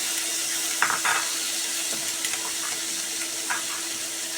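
Cooked masala paste for a restaurant-style egg curry lands in a hot pan and sizzles steadily and loudly, with a few soft scrapes of stirring over the constant frying hiss.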